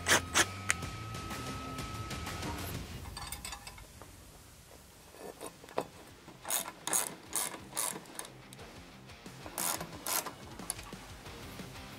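Ratcheting clicks as bolts are driven into the seat mount threads of a Rascal Lite mini bike kit, first a continuous whirring then short bursts of close, crisp ratchet strokes with pauses between.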